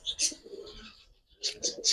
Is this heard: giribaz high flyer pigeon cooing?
yes